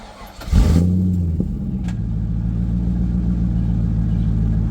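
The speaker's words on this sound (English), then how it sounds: "I'm going to start the driving portion of this video by taking out a 98 Corvette" A 1998 Chevrolet Corvette engine cranks and fires with a loud rev, then settles into a steady, deep idle rumble heard close up.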